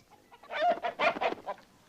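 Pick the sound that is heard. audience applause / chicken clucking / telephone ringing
chicken clucking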